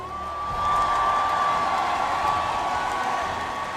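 Audience applause and crowd noise at a Mobile Legends esports world championship watch party, a sustained dense wash of clapping that swells after the first half second and holds steady, with a faint tonal hum running underneath.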